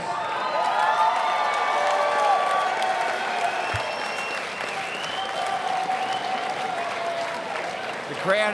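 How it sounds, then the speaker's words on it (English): A fight night crowd applauds and cheers in one loud, sustained wave of clapping and shouting that fills the room for the whole stretch, with scattered voices mixed into the roar. "the crowd, as you guys can hear, giving him an amazing reception as he deserves."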